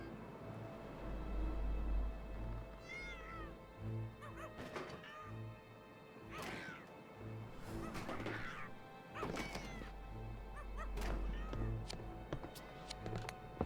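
Cartoon cat meows in a Tintin animated scene, brief and scattered among crashes, running footsteps and thuds, with a low rumbling backdrop and bits of action noise throughout.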